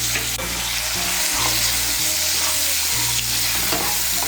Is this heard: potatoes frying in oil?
yes